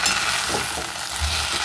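Fried eggplant and bitter gourd being mixed in a pan for milk shukto, a soft steady sizzle with a few scraping stirs of a spatula close by, no voices.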